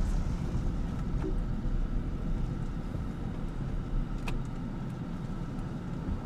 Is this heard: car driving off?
yes